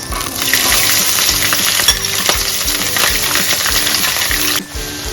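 Dried fish frying in a wok, a loud crackling sizzle with rapid clinks and scrapes of stirring throughout, close up, dropping off briefly near the end before resuming, no talk.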